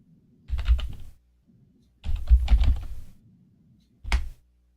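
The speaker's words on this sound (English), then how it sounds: "Sorry for the typing in the microphone" Three bursts of rapid keyboard typing, close by, separated by short pauses, with no talking.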